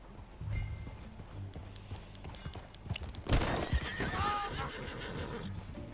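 A horse whinnies loudly amid rhythmic clip-clopping hooves in Red Dead Redemption 2, with a sharp burst midway and faint game background sounds.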